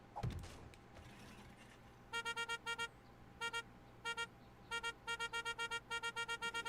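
Several new vehicle horns in 7 Days to Die, sounded one after another: short honks in pairs and quick bursts of repeated toots, with a faint clatter at the start and no talk.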